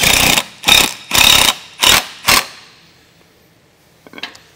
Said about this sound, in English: ratchet this down.